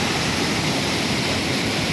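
Floodwater after a cloudburst in the Shanshar valley near Kullu rushes down a normally dry stream, a loud, constant, close roar of churning water with no break.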